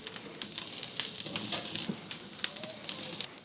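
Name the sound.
tomato dipped in garlic butter sizzling over grill flame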